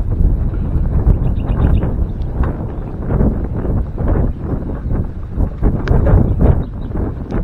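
Gusty storm wind sweeps across a rice paddy, pounding the microphone with loud, continuous low roaring and rustling for several seconds.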